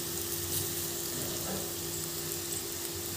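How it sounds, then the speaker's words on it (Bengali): Onions sizzling steadily in a pan with a teaspoon of sugar, frying to a reddish brown for a spicy chicken kasha, a dense close crackle that holds level throughout. "পেঁয়াজটা আমি লাল লাল করে ভেজে নেব।"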